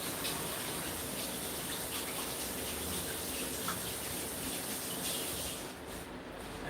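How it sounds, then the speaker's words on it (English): Tap water runs steadily into a sink during handwashing on a ranch before handling chicken legs, a constant close rush of water with no talk, easing slightly near the end. "Let me wash my hands really well."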